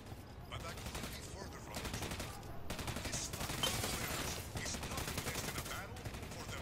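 A squad fires in Ghost Recon Wildlands with sustained, loud automatic gunfire. Rapid bursts overlap continuously, and voices are heard beneath the shooting.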